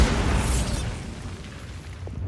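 A Bombarda spell explosion in Hogwarts Legacy booms loudly with a deep burst and crackling debris, then a long fading rumble.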